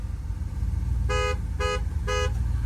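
Three short, loud car horn blasts at an even pace over a steady low engine rumble, with a 2021 or 2022 Ford Bronco nearby.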